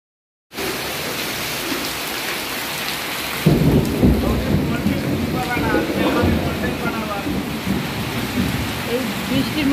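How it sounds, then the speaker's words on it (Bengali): Heavy rain pours outdoors in a continuous roar that swells noticeably louder partway through, with a low rumble beneath the dense patter. "ওদিকে বাইরে প্রচণ্ড বৃষ্টি শুরু হয়েছে"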